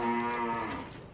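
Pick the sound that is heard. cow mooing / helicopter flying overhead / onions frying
cow mooing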